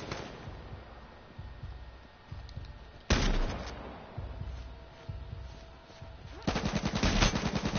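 Gunfire in a shooter video game, a headshot among rapid repeated shots that come in several bursts, with loud volleys toward the end and no talk over them.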